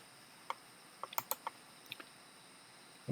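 Sparse computer keyboard keypresses while entering an Excel shortcut, single clicks and a quick cluster of taps, close and quiet in an otherwise silent room.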